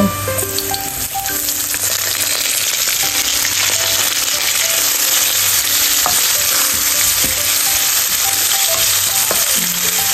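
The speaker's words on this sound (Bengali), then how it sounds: "রসুনটা লাল লাল করে ভেজে নেব" Garlic frying in a pan until reddish golden, giving a loud continuous sizzle and crackle with small clinks throughout and no talking.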